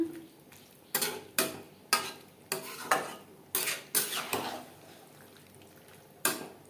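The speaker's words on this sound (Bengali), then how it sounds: "মশলার সাথে আলু এঁচোড় বেশ ভালো করে মিক্সড করে দেব" Potatoes and jackfruit mixed with spices are stirred in a pan, a spoon scraping and clinking against the metal in about eight distinct strokes, close and moderately loud, with quiet gaps between them.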